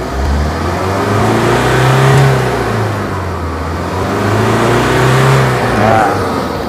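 A Tata Aria 2.2 turbo diesel engine revs steadily up close, rising in two broad surges with a deep, continuous mid-range drone and no talk over it.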